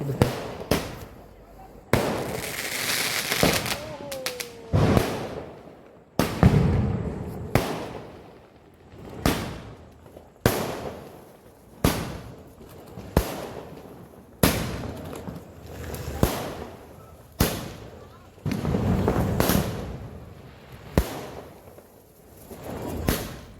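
Firecrackers burst outdoors one after another in a long series of sharp, loud cracks and bangs spaced about a second or two apart, some with brief whooshes. Voices are heard faintly in between.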